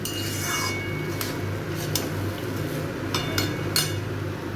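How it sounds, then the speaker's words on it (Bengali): Utensil scraping and clinking against a cooking pot as masala khichuri ingredients and spices are stirred together, a few sharp metallic clinks standing out over a steady low background hum. "খুব ভালো করে এটাকে একটু মিশিয়ে নেব।"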